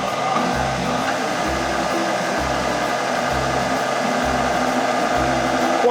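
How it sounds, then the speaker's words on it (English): An electric stand mixer churns chocolate espresso biscotti dough with a steady whirring hum up close, its low rumble pulsing in a regular rhythm as the dough is beaten. "let's turn it back on and give it a quick little mix"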